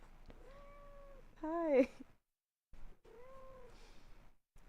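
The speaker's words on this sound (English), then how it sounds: "This is my other cat. Loud one." A house cat meows nearby in a few calls, one loud and strained in the middle, between quiet moments, while a person speaks softly around it.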